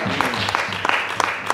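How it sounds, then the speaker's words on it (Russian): Church congregation clapping during a worship service, steady rhythmic applause with a voice speaking over it. "Воздадим Богу наше аплодисменты."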